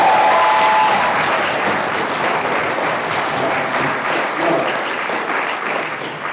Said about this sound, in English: So yeah, one big applause for them.